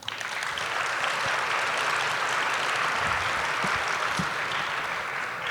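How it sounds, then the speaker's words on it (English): Steady audience applause at a Martin Luther King Jr. celebration event, dense continuous clapping from a seated crowd that holds evenly for several seconds. "Let's give a round of applause to Dr."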